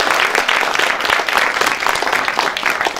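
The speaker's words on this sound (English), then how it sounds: "you all deserve a very big round of applause" Audience applause at a film awards ceremony: dense, steady clapping from many hands that stays loud and continuous from start to finish, with no talking over it.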